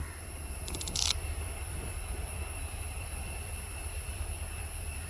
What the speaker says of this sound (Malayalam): ഇത് ട്രെയിൻ വരാനായി തോന്നുന്നുണ്ട്